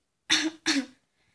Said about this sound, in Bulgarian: кашляш и не спираш